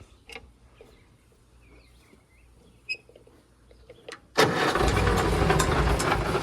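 A Farmall Super A tractor engine, set up with a cyclone spreader, cranks briefly amid quiet outdoor background with faint birds, then catches and runs loudly and steadily.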